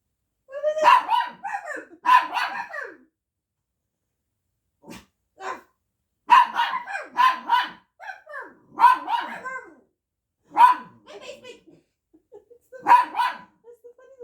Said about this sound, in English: That's the funny little head turns while he barks.